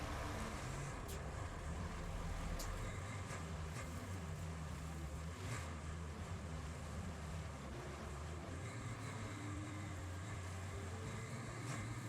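Idling vehicle engines in the Roadcraft video game at a sand quarry, a steady low rumble with a faint broadband wash running throughout, continuous and moderately distant.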